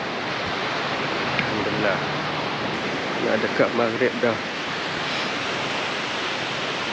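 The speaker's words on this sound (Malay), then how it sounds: "Saya dah tengah enjoy dengan mendengar suara" Steady wash of ocean surf heard from a beach chalet at Bachok, Kelantan, at dusk, a constant roar filling the whole stretch while someone speaks briefly near the middle.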